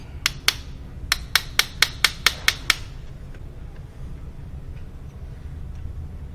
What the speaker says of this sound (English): Just tap the flange off, or the hose off.